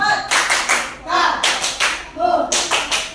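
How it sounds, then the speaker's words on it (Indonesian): Primary school class clapping for a group of pupils in a classroom, rhythmic bursts of unison claps in short patterned sets, close and loud with brief pauses between them. "tepuk tangan untuk kelompok 4"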